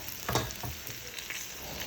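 Beef nihari sizzles and fries in a hot pan, a soft crackle with a few brief stirring bursts, faint and close with no talking.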